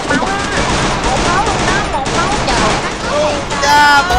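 Rapid Glock G18 fire in a Vietnamese ranked-match shooter game, a dense full-auto burst running throughout at close range, with voices talking excitedly over it.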